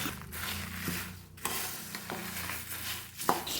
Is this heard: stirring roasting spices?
yes